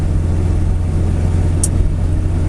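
A 1989 Honda Civic EF with a turbocharged engine drives along with a steady, loud low rumble of engine and road noise from inside the car, continuous and unbroken, with no talking.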